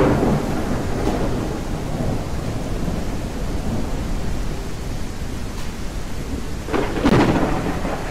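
Rain falls steadily in the video game Gothic on Unreal Engine 5, with deep rolling thunder rumbling through it and a louder, close crack of thunder near the end.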